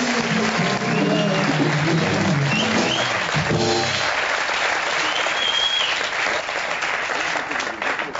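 A studio audience at a New Year's special television show applauds for a performer, a loud, continuous clapping crowd with a voice and music-like tones mixed in during the first few seconds.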